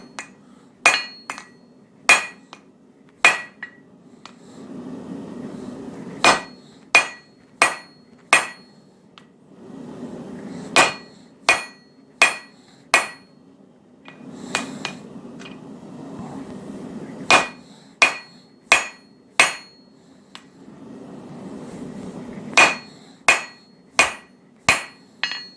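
A hammer forges an aggressive taper on hot steel for a hammer drift, striking in bursts of sharp, ringing, close blows. Quieter stretches of low hum fall between the groups of strikes, with no talk.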